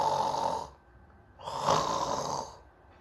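A person mimics snoring with two drawn-out rasping snores separated by a short pause, close and fairly loud, with no other talk.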